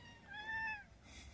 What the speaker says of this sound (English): Or our kitty, who's talking now.